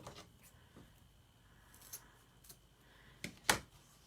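Scissors snip through the end of a folded 16-inch ribbon length to cut a dovetail, a few quiet, sparse clicks and slices, the sharpest cut near the end, close by in a quiet room.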